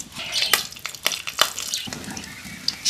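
Green chilies hit hot mustard oil in a pan, crackling and sizzling in bursts of sharp pops with light stirring scrapes, close and fairly loud.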